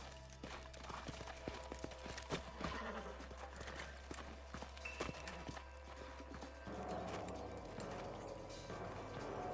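Horse hooves clip-clop on hard ground with an occasional whinny, set against a quiet soundtrack from the video game Red Dead Redemption; several horses slowing and shuffling nearby.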